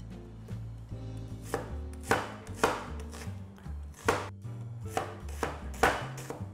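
A knife chops onion on a cutting board in a home kitchen, giving a steady run of crisp, close knocks, some quick and some spaced apart. Low background music plays underneath, and no one talks.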